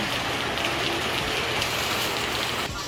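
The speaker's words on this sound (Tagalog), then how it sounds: "maulan na araw" Steady, dense hiss of typhoon rain falling on surfaces, continuous and fairly loud with no talking.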